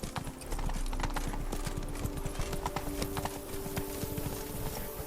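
Horse hooves clip-clop in a fast, continuous gallop in the video game The Witcher 3, steady and close, with a faint snort from the horse mixed in.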